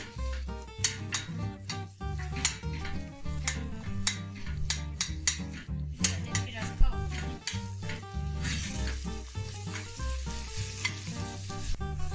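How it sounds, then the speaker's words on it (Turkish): Eggplant and tomato paste sauté in a pan for a vegetable bulgur pilaf. A continuous sizzle with scraping stirs and light utensil clinks sits under background music, and the hiss swells louder near the end. "Patlıcanlarını da soteleyeceğim. Salçasını da güzelce soteleyeceğim."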